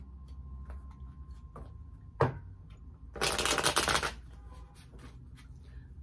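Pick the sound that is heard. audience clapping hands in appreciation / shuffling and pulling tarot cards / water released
shuffling and pulling tarot cards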